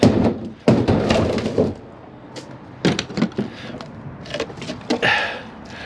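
Scrap speakers are smashed in a workshop with a string of loud, close impacts: heavy thuds, cracks and rattling debris, then clusters of sharper hits and clattering fragments.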